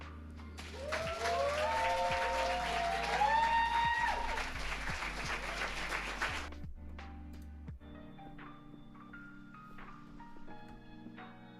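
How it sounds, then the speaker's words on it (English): Audience applause at a poetry event, a broad steady wash of clapping for about six seconds that then thins into scattered claps and faint room noise, with no talking. "I want y'all to give a good, big round of applause."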